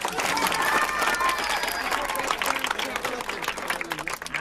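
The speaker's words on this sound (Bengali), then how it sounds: "হাততালি দাও, যাও।" Children clapping their hands together in a group: dense, lively applause that runs steadily for several seconds, mixed with crowd noise and voices.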